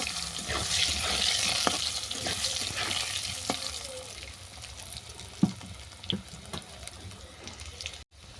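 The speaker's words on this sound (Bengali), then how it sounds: "ফোড়ন ভেজে নেওয়ার পর তুলে দিচ্ছি কেটে রাখা আলু, মানে সেদ্ধ করা আলু আর কি।" Boiled, cut potatoes frying in oil with tempering spices for a fish curry with potato and eggplant. A soft sizzle runs under scattered clinks and scrapes from stirring, with a few sharper knocks toward the end.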